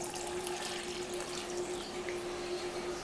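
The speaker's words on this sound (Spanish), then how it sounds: "Lo que voy a hacer, le voy a poner agua." Water pours steadily into a blender jar of pineapple for ice pops, a continuous close splashing stream with no speech.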